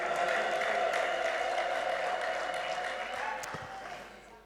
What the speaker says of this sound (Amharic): ታላቅ እልልታና ጭብጨባ ለዚህ ጌታ።